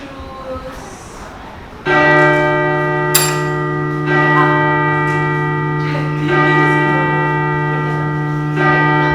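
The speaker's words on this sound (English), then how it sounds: "Church bell." A church bell rings in long, sustained strokes, its rich harmonic tone sounding loudly several times over about seven seconds, with quieter background noise before the first strike.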